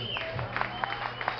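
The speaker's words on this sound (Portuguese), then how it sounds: "Salva de palmas, por favor, pro meu querido amigo, irmão, super compositor, músico completíssimo," Small audience at a tribute show in Santa Tereza clapping for a composer and musician: sparse, faint individual claps scattered over a low sustained tonal background, fairly distant and quiet.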